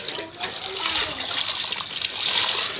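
Water is poured out in a continuous splashing stream, fairly close and steady for a few seconds, set in a home doing chores.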